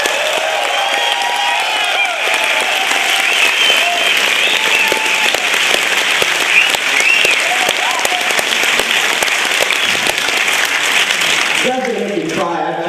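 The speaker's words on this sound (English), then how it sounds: "Tonight, I want you guys to give yourselves a fucking round of applause" A film festival crowd claps and cheers loudly for a horror film screening, sustained applause with whoops throughout, and a voice speaks over it near the end.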